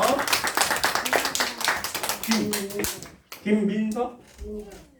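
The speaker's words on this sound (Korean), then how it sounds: "박수로 환영해 주시고요" Children and adults at a Sunday school service in a church clap briskly for a welcomed child, a burst of quick claps up front, then a voice talking as the clapping fades.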